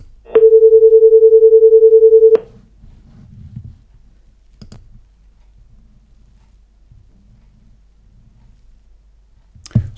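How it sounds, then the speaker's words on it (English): A pure sine wave tone generated by mathematical software sounds as a single steady, clean pitch for about two seconds, starting and stopping abruptly, followed by near silence with a few faint clicks. "you can just play a sine function with mathematical software, and I did that, and this is what you get"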